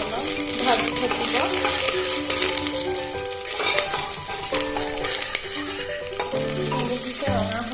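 Onion, panch phoron and dried chilli fry in hot oil for lentil dal, stirred with a utensil scraping the pan in repeated strokes over a continuous close sizzle, with no voices.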